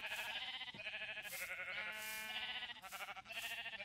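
Sheep in Minecraft bleating repeatedly, several clear wavering digital bleats in quick succession, close and fairly loud against a quiet background.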